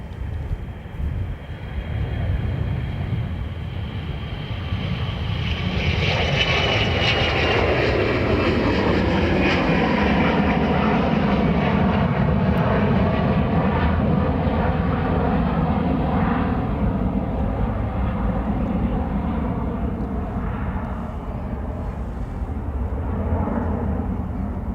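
An airplane passing near Dublin Airport, a loud, sustained jet engine roar that swells and slowly sweeps in pitch over about twenty-five seconds, with no voices.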